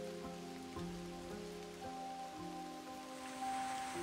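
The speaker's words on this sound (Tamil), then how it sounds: "இன்னைக்கு வெதர் நமக்கு ரெய்னியாக இருக்குது" Steady rain falling in a forest at Parambikulam, pattering on leaves and surfaces with scattered individual drops, continuous and fairly close, with no voices.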